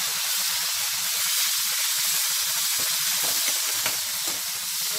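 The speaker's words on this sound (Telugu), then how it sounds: "ఇప్పుడు మిరపకాయలు వేగిన తర్వాత ఈ టమాటో కూడా వేసేద్దామండి." Tomato pieces go into a pan of hot oil with fried dried chilies and curry leaves, giving a strong, steady hiss of sizzling with faint stirring underneath.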